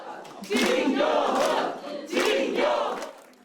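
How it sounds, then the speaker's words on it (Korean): A crowd at a Democratic Party campaign camp erupts in loud cheers and shouts as a by-election victory for Seoul Gangseo district mayor is confirmed, in two strong bursts close by. "진교훈 후보의 당선이 확정되자 박수가 터져나옵니다"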